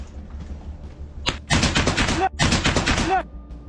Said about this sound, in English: Russian gunfire erupts and the Ukrainian soldier retreats hastily